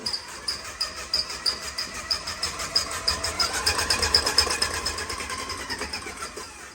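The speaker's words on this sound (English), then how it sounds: "we're going to let these eggs and sugar just mix together a little while until that sugar starts to dissolve" An electric mixer whirs through eggs and sugar in a bowl, with a pulsing, rhythmic churning and a high whine that rise and fall steadily, close by with no talking.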